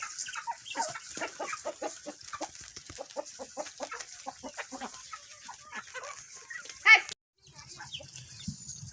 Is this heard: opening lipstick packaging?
no